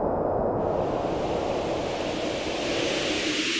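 A Haken Continuum synthesizer preset morphs from a windy hiss into washing beach waves, a broad rushing noise that swells and shifts texture, steady and fairly loud with no voices.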